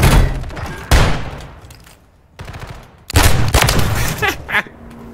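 Akimbo dual automatic shotguns in Modern Warfare 3 fire in loud, heavy blasts, a few booming shots with rapid follow-ups and brief lulls between volleys.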